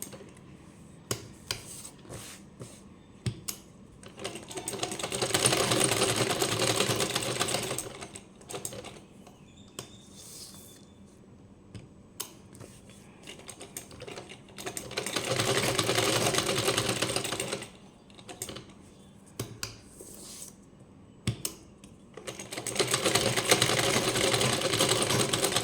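A sewing machine sews a zigzag stitch in three bursts of rapid clattering, each lasting a few seconds, with quiet pauses and small clicks and handling noises in between.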